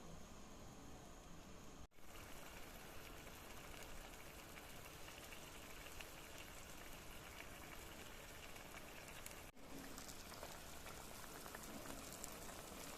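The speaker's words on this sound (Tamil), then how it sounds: "இப்போ நல்லா கொதிக்குது" Steady bubbling and sizzling of a pot of tamarind fish curry at a rolling boil, continuous and close, with two brief dropouts and no talking.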